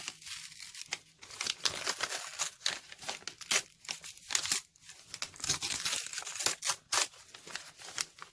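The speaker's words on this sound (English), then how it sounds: "the gusset part that forms the bag, I slowly tear it apart." Brown paper bag slowly pulled apart at its bottom gusset, with close, dry tearing and crinkling in uneven bursts and short pauses, and no talking.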